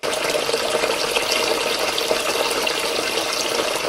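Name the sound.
water running from a sink tap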